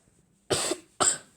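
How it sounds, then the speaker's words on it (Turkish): Two harsh coughs in quick succession, close and loud, with brief quiet before and between them. "pardon öksürüyorum"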